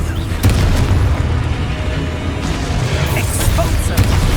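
The fiery Confringo spell explodes in Hogwarts Legacy amid spell combat. Sharp booms punctuate a dense, rumbling battle din, with a couple of distinct blasts near the start and end.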